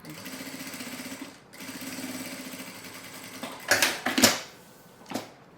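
A sewing machine topstitching a seam on a fabric notebook case, running in two steady stretches of rapid stitching, with a few louder handling clatters near the end.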